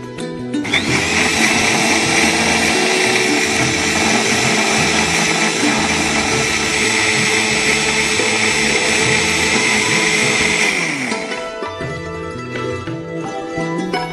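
A kitchen blender crushes a spring onion and potato soup mixture with added water, running loud and steady for about eleven seconds before winding down and stopping.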